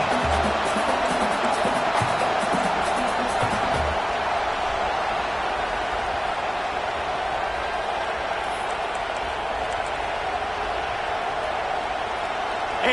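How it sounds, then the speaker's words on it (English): Steady crowd roar fills a college football stadium at Tennessee vs Florida during a timeout before a field goal attempt, a continuous broad wash of noise with commentators speaking over it. "This crowd trying to do its part to get inside the kicker's head."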